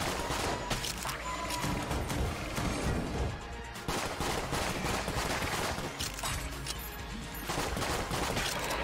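A laser gun fires in the Enter the Gungeon video game, a dense, loud barrage of rapid shots that pauses briefly around the middle before resuming just as heavily, with no speech over it.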